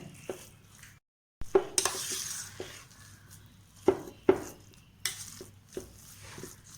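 A spoon works through a thick spice paste with salt and turmeric in a bowl, scraping with occasional clinks. A brief silence comes early, then the stirring goes on, up close.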